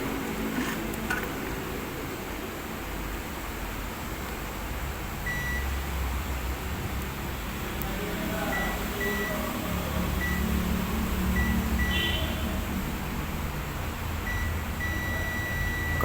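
A multimeter beeps on continuity while probing the transformer of a Sharp refrigerator: faint, thin, high tones in short intermittent blips, with a longer one near the end, over a steady background hum.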